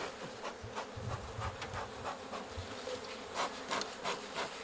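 Bees buzzing around a hive box as they return with pollen, a dense, steady hum of many wings close by, swelling and fading as individual insects pass near, with no talk.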